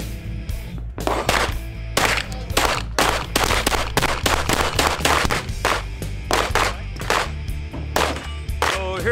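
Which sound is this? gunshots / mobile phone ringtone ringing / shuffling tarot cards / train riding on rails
gunshots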